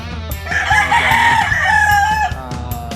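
A rooster crows loudly nearby in one long, ragged call, with other chickens clucking and calling in the background.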